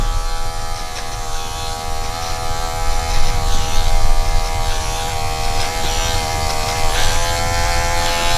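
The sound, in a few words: Wahl Magic Clip hair clipper cutting hair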